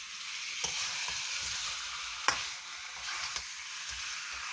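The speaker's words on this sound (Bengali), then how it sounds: "মাংসটা দিয়ে মাংসটার সাথে ভালো করে মশলাটা মিশিয়ে নিতে হবে" Chicken sizzles in a pan with spice masala as it is stirred, a soft continuous frying hiss with a few sharp scrapes of the spoon, quiet and close.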